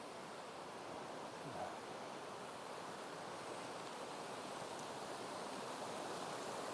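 Deep Creek in Paradise Valley, Montana, in winter with ice formed along its edges, its mobile water rushing as a steady broadband roar, close and unbroken, with no voices.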